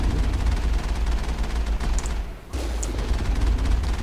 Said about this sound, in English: Look at this, I'm shooting at it, but it's not hitting it.